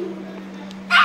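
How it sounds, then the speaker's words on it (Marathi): A dog gives a single loud, close bark right at the end, after a steady low hum with faint background murmur. "कुत्रा आहे बघा"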